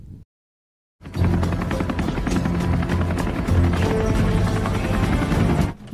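A helicopter flies with a loud, steady rotor thump and engine roar that cuts in after a brief silence and holds strongly before breaking off abruptly near the end.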